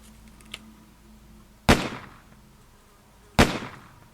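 Two sharp, loud pops about two seconds apart from a folded paper origami gun being fired, each a sudden snap with a brief ringing tail, in an otherwise quiet room.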